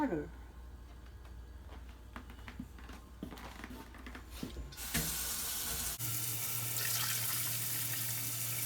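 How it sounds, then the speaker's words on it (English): Warm tap water pours into a bowl for gluten steaks, starting faintly under kitchen clatter and then turning into a loud, steady rush that runs for the last few seconds. "And 5 cups of warm water."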